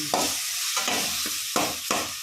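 Dal frying in hot oil, a close, crackling sizzle punctuated by four or five sharp stirring scrapes at uneven intervals, with no voices.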